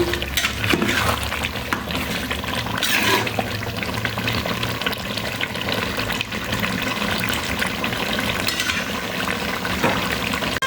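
Water is poured into a pot of rice for khichuri, a continuous loud splashing and gurgling rush that fills the clip from start to finish, with no talking.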